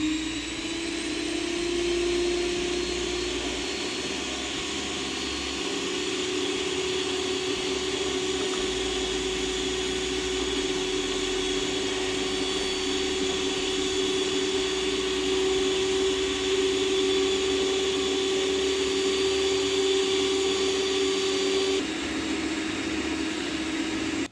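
A stand mixer runs at its lowest speed, mixing vegan pizza dough as flour is added a little at a time, making a steady, continuous motor whir with a constant hum.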